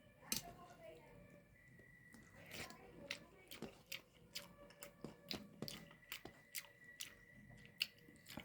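Someone eats hot home-cooked rice: faint, close wet chewing and soft clicking bites repeat in a loose rhythm, with low voices murmuring in the background.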